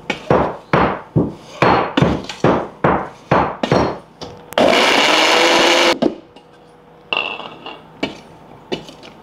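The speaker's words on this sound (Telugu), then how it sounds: "వెల్లుల్లి దంచుతుంది" Garlic is pounded in a mortar with a string of sharp, evenly spaced thuds close by, broken midway by a couple of seconds of harsh grinding noise, then a few more scattered knocks.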